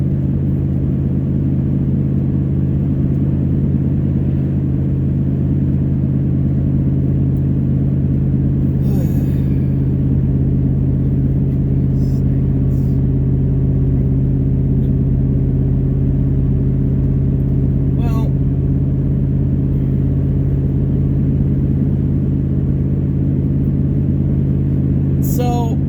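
Steady, droning low rumble of a pickup truck engine while driving and towing a trailer, constant and loud throughout, with a few brief faint clicks.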